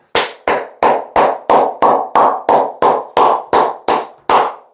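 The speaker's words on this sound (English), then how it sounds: "Round of applause." A single pair of hands claps twelve times in a steady, evenly spaced rhythm, each clap sharp, loud and close, with brief decaying tails and silence between.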